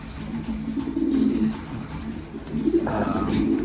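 Racing pigeons coo close by in a loft, low throaty rolling calls that swell and fade in a couple of phrases, with soft background noise and no talk.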